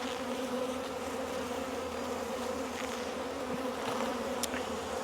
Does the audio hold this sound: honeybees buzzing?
yes